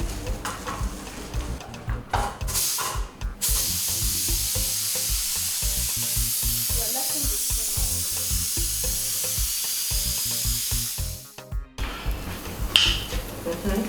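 A pot of beans cooking back on the fire gives off a continuous bubbling sizzle with clicking crackles, steady and close, briefly dropping away near the end.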